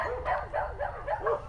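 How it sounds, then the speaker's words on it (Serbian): Dogs bark repeatedly in a quick rhythmic series at night under a full moon, mid-distance, four or five yelping barks with a slightly whining tone. "koji laju i ne znam se šta laju."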